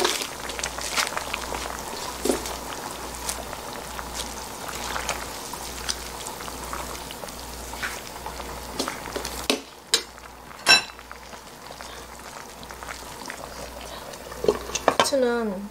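Perilla seed and freshwater snail soup simmers in a pot with steady bubbling, punctuated by clinks of a spoon or ladle against the pot near the end.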